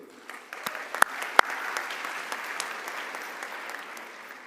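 Graduation ceremony audience at Atlantis University applauds cum laude graduates, scattered sharp claps first, then building into steady, moderately distant applause that slowly thins out.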